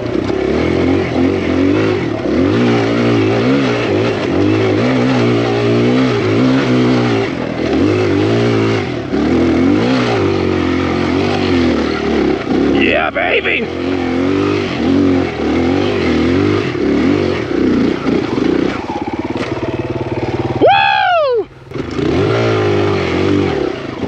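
Kawasaki KLX140RF dirt bike engine revving hard and steadily while climbing a steep hill, loud and close with rising and falling pitch, clattering, and a sudden cutoff near the end.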